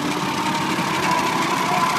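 A V8 eight-cylinder car engine idles at a steady, even level throughout, a close continuous rumble with a faint knocking texture and no talk over it.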